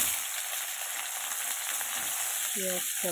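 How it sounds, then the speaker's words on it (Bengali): Onions fry in hot oil in a wok, giving a loud, steady crackling sizzle close up, with a brief tonal clink near the end. "তেলটা দিয়ে এবার আমি এর মধ্যে দিয়ে দেবো বেশ খানিক করে পেঁয়াজটা"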